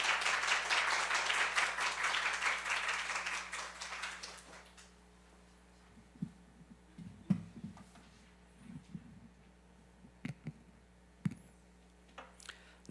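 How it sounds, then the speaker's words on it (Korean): A church congregation applauds to welcome a pastor at a Sunday worship service, a few seconds of dense clapping that quickly dies away, followed by quiet room noise, shuffling and a few faint knocks. "목사님 나오실 때 박수로 환영하도록 하겠습니다."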